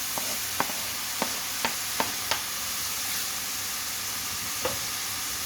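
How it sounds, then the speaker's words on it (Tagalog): Beef fries in a pan with tomatoes added, giving a steady sizzle under a series of sharp utensil clicks and scrapes as the mixture is stirred. "Pag na ang ating beef, ilagay na natin ang ating kamatis."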